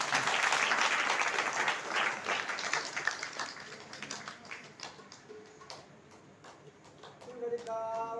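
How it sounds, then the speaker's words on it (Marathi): An audience at a religious Bhagavata Katha gathering applauds during an honouring ceremony, starting as dense clapping that thins into scattered claps and fades, with a voice and a tonal sound entering near the end. "टाळी वाजवा सर्वांनी"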